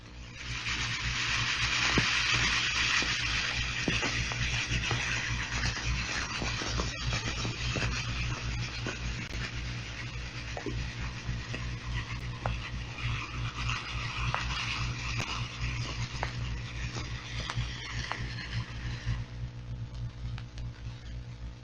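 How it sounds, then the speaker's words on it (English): American light cruiser at 12 knots and 1,000 yards range, recorded underwater by sonar on a flat filter: a continuous hissing wash over a steady low hum, with soft rhythmic thumping beats, fading slightly toward the end. "And here is the sound of an American light cruiser on flat filter."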